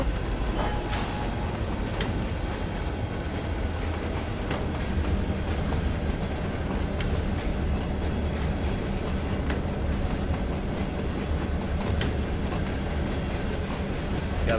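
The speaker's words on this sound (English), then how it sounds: "Gotta wait for this guy to go by. There's the caboose." Freight train with a caboose rolling past on a winding single track in Train Sim World 5, a steady close rumble with rail clatter and faint squeals lasting throughout, with no talking.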